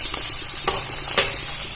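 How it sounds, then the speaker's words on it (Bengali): Sattu frying in hot oil in a pan, a steady sizzle running throughout with a few sharp scraping stirs, close and fairly loud. "আমি এটা খুব ভালো করে ভেজে নেব"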